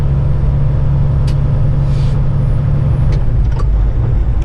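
Heavy John Deere machine of about 30,000 pounds rolling onto pavement, a loud, steady low engine drone with faint hissy and squeaky accents on top and no speech.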